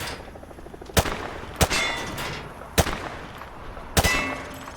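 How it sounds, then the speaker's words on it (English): Four separate sharp rifle shots at targets in Call of Duty MW2 Remastered boot camp, each a crisp ringing crack spaced about a second apart over a quiet background hum. "He sprayed bullets all over the damn place."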